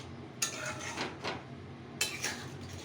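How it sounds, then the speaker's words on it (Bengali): Sugar is stirred into doodh potol, pointed gourd cooked in milk, in a pan: two separate scraping strokes of a spoon against the metal, heard close and fairly soft. "চিনি দিয়ে আবার মিশিয়ে নিলাম।"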